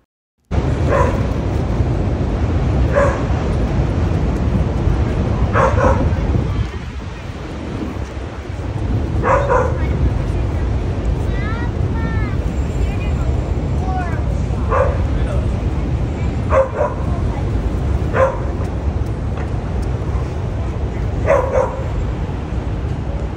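A dog gives scattered sharp barks and yips at intervals over a steady outdoor wash of wind, heard in an American neighbourhood.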